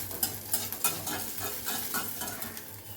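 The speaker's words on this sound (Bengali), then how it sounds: "সাইড দিয়ে কয়েক ফোঁটা তেল আমি দিয়ে দিচ্ছি, তাহলে নিচের পোর্শনটাও খুব সুন্দর করে ভাজা হয়ে যাবে।" Semolina snack fries in a pan with a few drops of oil added at the side, a soft sizzle with light stirring and scraping taps, close but quiet and without voices.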